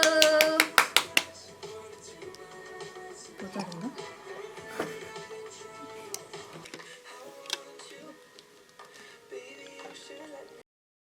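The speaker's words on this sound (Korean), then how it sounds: "박수." Several quick, sharp hand claps ring out close by at the start in a mall baby lounge during a nine-month-old's feeding, followed by quieter handling sounds and soft voices.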